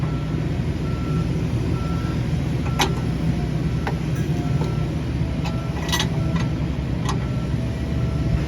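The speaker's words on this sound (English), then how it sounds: "It's literally a garbage truck in the alley where I'm working at." A garbage truck in an alley grumbles with a loud, steady engine rumble close by, while faint, evenly spaced reversing beeps sound over it.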